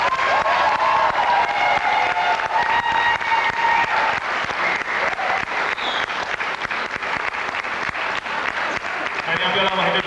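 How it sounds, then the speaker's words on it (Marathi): Audience applause for two tabla players at a live music concert: a dense, sustained wash of many hands clapping through the whole stretch, with a voice audible over it early on. "आपण त्यांना आता दोघांना वेगवेगळ्या टाळ्या देऊया."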